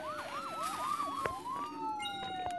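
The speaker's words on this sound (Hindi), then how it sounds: "एम्बुलेंस आ गई।" A wailing ambulance siren from a firefighter video game sweeps up and down in repeated cycles, then settles into a long rising and falling tone. It stays loud and steady throughout, with no one talking.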